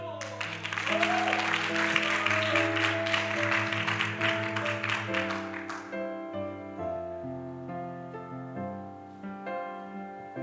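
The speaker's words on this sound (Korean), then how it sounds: "네, 박수." At a Korean church revival meeting, the congregation applauds in a thick, steady wash over sustained musical tones, then the clapping cuts off and the melody carries on alone, softer.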